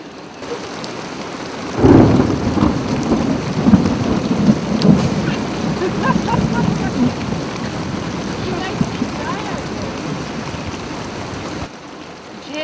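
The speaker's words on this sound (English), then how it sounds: "the heavy rain has returned" Heavy rain pounding down at night during a storm-hit race, a steady loud wash with low rumbling thunder swelling after the start, heard from shelter.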